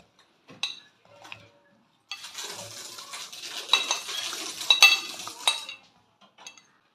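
Cut apple pieces are dropped into a bowl for a mixed fruit ice cream salad, making a cluster of light clinks and clatters. A few isolated taps come before it and one or two after, in a quiet room with no speech.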